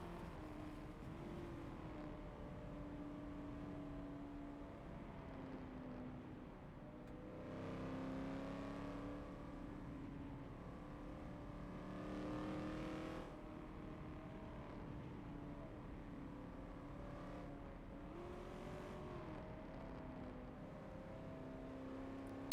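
Race car engines in a Forza racing game on the Le Mans circuit, a steady faint drone that swells and revs in several waves as cars speed through turns, with no voices.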